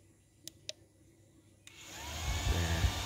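The radiator cooling fan of a Yamaha Vixion, switched on by a diagnostic tool, spins up with a rising whir after a few sharp clicks, growing into a steady close airy hum.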